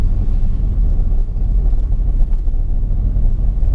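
A 1991 Nissan Fairlady twin-turbo engine revs up close, low and steady, with a throaty, slightly fluctuating roar and some buffeting noise, no voices.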